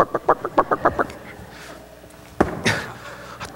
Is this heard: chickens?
yes